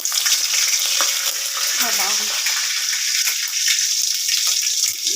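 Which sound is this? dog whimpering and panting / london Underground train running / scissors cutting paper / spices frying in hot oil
spices frying in hot oil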